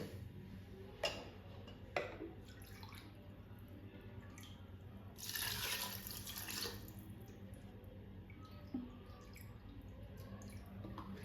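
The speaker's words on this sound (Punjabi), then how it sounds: "ਆਪਾਂ ਇੱਕ ਕਟੋਰੀ ਚਾਵਲ ਲਏ ਸੀ ਤੇ ਡੇਢ ਕਟੋਰੀ ਪਾਣੀ ਪਾਣਾ ਹੈ ਆਪਾਂ ਇਸ ਦੇ ਵਿੱਚ" A couple of soft knocks, then water pours briefly into a pot of rice for pea pulao for about a second and a half, nearby, over a faint steady hum.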